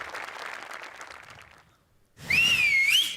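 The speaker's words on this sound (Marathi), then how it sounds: "ही शिट्टी होती ओमकार आणि नम्रतासाठी, आणि श्याम्या तुझ्यासाठी." A loud, sliding two-finger whistle from the audience at a Marathi comedy show rings out alone after a stretch of fading crowd noise and a brief hush.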